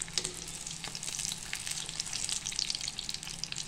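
Paneer pakoda fritters deep-fry in hot oil, giving a steady, close crackling sizzle with dense bubbling pops throughout and no voices.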